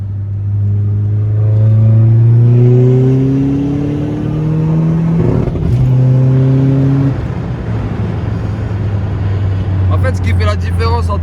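A Volkswagen Golf 7R revs and accelerates hard through several rising gear sweeps with a shift in the middle, loud and close, before settling to a steady engine drone as voices chatter around it.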